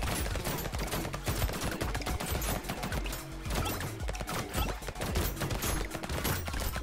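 Rapid, dense gunfire from an SMG in the top-down arena game Brotato, a continuous clatter of quick shots layered over busy game effects and music, loud and steady throughout with no talking.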